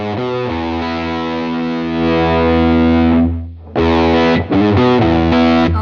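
Heavily distorted electric guitar through a UAD Enigmatic '82 Overdrive amp rings out as a sustained saturated chord, briefly cuts off, then returns in a few choppy, loud strummed bursts, with no speech.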